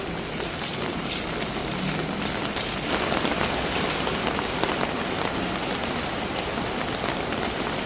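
Heavy rainy-season downpour on a Bangkok street near Soi Cowboy, a steady dense hiss of rain hitting pavement and surfaces, constant and close throughout with no talking.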